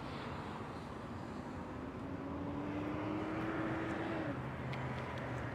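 A Dongfang Ghost 250 (DF250RTB) cruiser motorcycle engine running steadily with a droning tone that rises slightly, then shifts pitch, over broad background noise; no talking.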